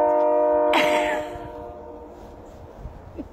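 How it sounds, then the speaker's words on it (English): Train passing nearby: a steady multi-tone horn sounds for about a second, then fades into a low rumble of rolling cars, with no talking. "Train!"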